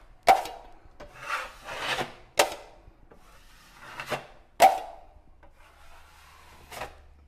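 Drywall joint compound wiped off a wall during a torn-paper repair: a series of short, scraping rubbing strokes, close and moderately loud, separated by brief pauses, with no talking.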